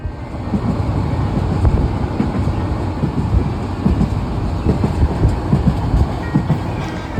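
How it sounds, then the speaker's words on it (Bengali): A train runs on rails, heard from onboard as a loud, steady rumble with faint rhythmic clatter from the wheels, continuous and without talk. "ওইখান থেকে ট্রেন ছাড়লো"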